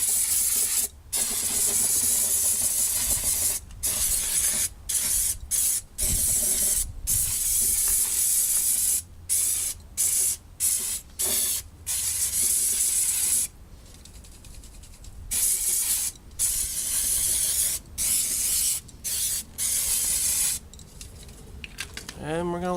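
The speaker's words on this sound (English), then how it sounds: "one more can of brake clean" Aerosol brake cleaner hisses loudly onto a car valve cover in long, steady blasts, broken by brief pauses between bursts, close to the can.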